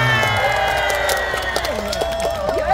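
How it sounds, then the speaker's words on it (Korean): A festival crowd at the Ulsan whale festival's outdoor concert cheers and applauds for an encore, a loud continuous roar of voices and clapping with sustained tones and shouts rising over it. "여러분의 큰 박수로 앵콜 무대 청하겠습니다."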